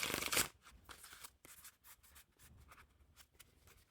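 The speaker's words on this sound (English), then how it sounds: "no issues shuffling the cards or handling them" Blue Bicycle Strong Hold playing cards being shuffled, a dense riffle burst at the start followed by quieter intermittent card handling and soft flicks, close and faint with no talking.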